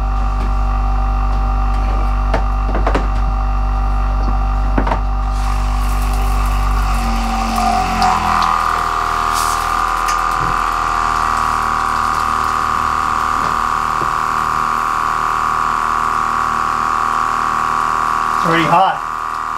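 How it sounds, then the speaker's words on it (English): Water rushing steadily through newly connected instant hot water plumbing running from a shed to a house, a strong continuous flow with a pump-like hum that starts about a third of the way in and holds to the end. "then we'll run some water out there for the first time"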